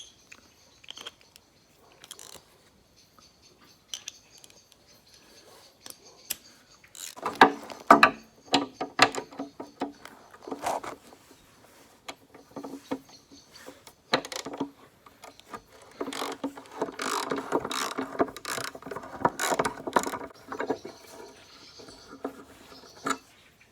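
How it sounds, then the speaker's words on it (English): Ratchet wrench fitted with an extension bar working bolts loose on a BMW E36 during rear shock absorber replacement; quiet intermittent clicking and metallic rattles, growing busier and more continuous in the second half, with no talk. "It's a little bit far to reach in there with my short little wrench"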